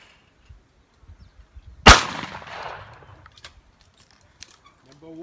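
A single sharp shotgun blast from a Perazzi fired at a target, loud and close, with a short decaying tail and faint ambient noise around it.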